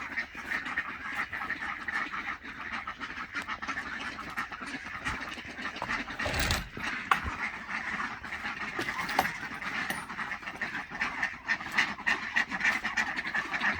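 A flock of ducks, extra birds mixed with an old brood, quacks busily while being fed, a continuous near chorus of calls with a louder burst midway and no voices.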